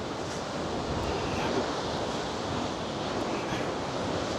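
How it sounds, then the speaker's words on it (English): Huge sea waves crash and surge over the Blackpool sea defence in a storm, a loud, continuous roar of churning surf mixed with heavy wind buffeting the microphone, with no distinct breaks. "You see the huge waves crashing over."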